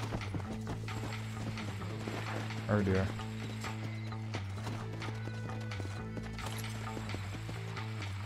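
Horse hooves clip-clopping in the Red Dead Redemption video game, a steady close trot with a brief whinny, under game music and a player's spoken remarks.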